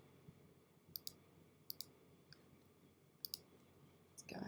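A computer mouse clicks through photo editing presets, giving quiet paired clicks at irregular intervals against a faint room hiss.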